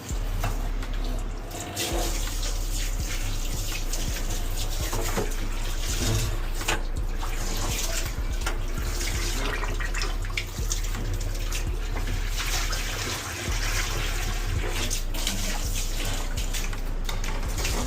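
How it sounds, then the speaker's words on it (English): Water from a hose rinses down a surface after pressure washing, a steady, close, continuous rushing spray that runs without pause and without voices. "we'll just do a little rinse down, finish it off in here"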